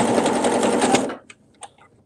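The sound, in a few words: sewing machine stitching a ribbed knit neckband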